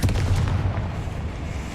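Confringo blasting spell going off in the video game Hogwarts Legacy, a close heavy boom with a low rumbling tail that fades over under two seconds, no voices.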